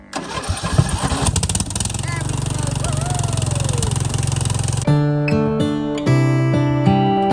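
A rumbling engine idles steadily beneath a voice, then shifts to a harder, uneven chugging partway through.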